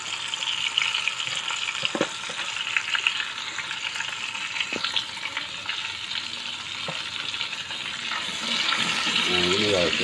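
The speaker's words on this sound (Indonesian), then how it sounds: "baru kita masukkan daging yang kita endapkan dengan bumbu tadi guys ya" Chunks of spice-marinated goat meat sizzle and fry loudly in a hot pan for an Acehnese goat curry, a steady crackling hiss with occasional stirring.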